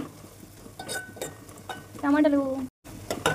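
Omelette curry is stirred in a pan with a spoon, giving short scraping and clinking strokes over a soft sizzle, close by, with a brief murmur of voice in the middle.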